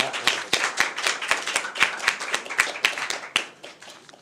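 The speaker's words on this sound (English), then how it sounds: "Let's have a round of applause for all of you." A crowd at a graduation ceremony claps steadily, with sharp, dense hand claps close by that rise and fall over a few seconds before beginning to thin out.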